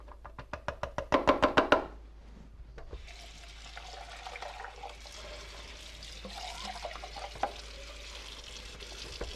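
Canned black beans rinsed under a running cool tap: a steady watery rush and spatter fills the sink after a few sharp clatters at the start, moderately loud and continuous.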